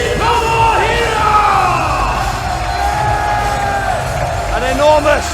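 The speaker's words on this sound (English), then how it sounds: "An enormous ovation from this Manchester crowd for the Stone Pitbull, Tomohiro Ishii." A Manchester pro wrestling crowd gives a loud, sustained ovation for Tomohiro Ishii, a dense roar of cheers, whoops and shouts filling the arena, with a voice speaking over the noise.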